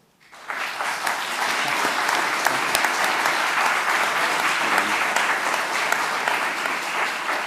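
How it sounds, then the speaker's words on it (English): Sustained audience applause for two panelists after a Q&A on identity in a globalizing world, rising quickly to a dense, even wash of clapping that holds steady throughout. "They deserve an applause."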